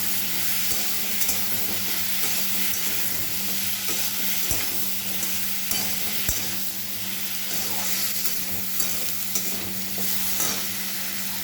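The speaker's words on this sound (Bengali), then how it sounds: "নুন দিয়ে দিলাম, হলুদ দিয়ে দিলাম, নাড়বো নেড়ে চেড়ে" Prawns and taro pieces frying in a pan with salt and turmeric, stirred steadily throughout, giving a continuous close sizzle with scraping spoon strokes.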